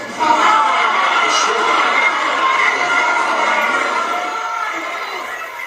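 Loud, agitated crowd of constituents at a Republican congressman's town hall in Florida, a dense steady roar of many voices with shouts and cheers rising and fading over several seconds.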